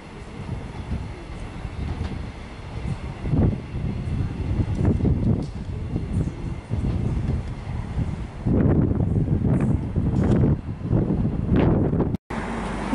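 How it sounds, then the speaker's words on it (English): An X-Trapolis electric train passes through Hawthorn Station in Melbourne, a sustained rumble of wheels and carriages rising and falling over about thirteen seconds, close by, with wind buffeting the microphone and rhythmic surges as cars go past. "Got a train passing. It's X-Trapolis."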